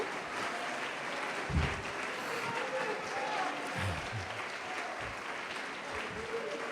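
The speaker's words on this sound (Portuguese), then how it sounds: "quem pode aplaudir Jesus?" A church congregation applauds during a sermon, a continuous wash of many hands clapping at moderate distance, with a few low thumps and a voice faintly present beneath the clapping.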